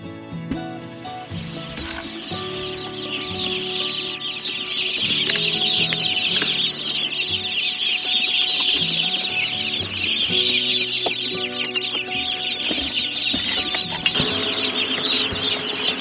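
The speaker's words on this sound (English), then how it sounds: "This is the brooder. And then we've got chicks." Baby chicks in a brooder, a dense continuous chorus of high peeping and cheeping with occasional wing flutters and scratching, close and steady throughout, no talking.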